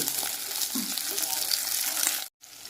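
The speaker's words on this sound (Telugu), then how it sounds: "ఈ పచ్చిమిరపకాయలు సగం సగంగా వేగాలి" Green chillies frying in a pan for an old-style idli chutney, a steady broadband sizzle and crackle throughout, close and fairly loud, cutting off briefly near the end before resuming.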